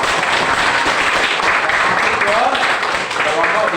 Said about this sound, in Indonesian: mari dulu tepuk tangan kita.